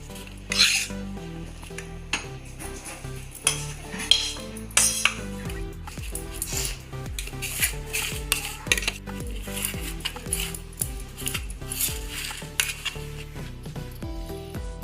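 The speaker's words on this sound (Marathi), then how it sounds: "मी ह्याच्यात भांड्यात काढून घेते हे पीठ भाजलेलं सगळं।" Metal utensils clink and scrape steadily against a pot in a home kitchen as roasted wheat flour is spooned into a vessel, giving a continuous run of sharp knocks and rasping strokes with no talking.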